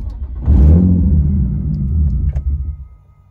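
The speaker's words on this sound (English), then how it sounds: "we're gonna go ahead and crank the car up" A 2003 Infiniti G35 engine cranks and catches with a loud, close rumble, idles roughly for a couple of seconds, then fades out as it dies.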